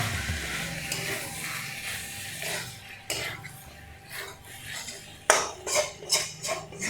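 Chicken pieces with coriander stirred in a pan, utensil scraping and clinking against the metal with a low sizzle underneath, in uneven bursts, with a sharper rattle of strokes near the end.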